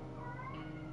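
A pet cat meows faintly in the background over a low steady hum, a single soft drawn-out call.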